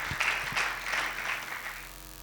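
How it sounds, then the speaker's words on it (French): An audience applauding to welcome a speaker at a youth forum in Goma, a short burst of mixed clapping that holds steady, then thins slightly toward the end. "Sous vos acclamations, s'il vous plaît"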